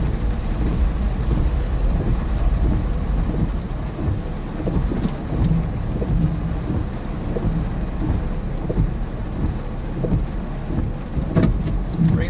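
Heavy rain pours steadily during a severe flooding thunderstorm in southern Iowa, a dense close roar with low rumbling and a few sharper clicks, and no talking.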